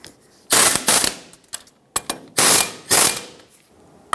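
Ratcheting wrench run down on brake caliper bolts of a 1996–2002 Toyota 4Runner: loud, close bursts of rapid metallic clicking in several quick strokes with short pauses between, no speech.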